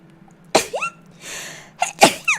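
Two sharp sneezes burst out close to the listener, separated by a brief breathy pause, with a quick high squeak or chirp between them.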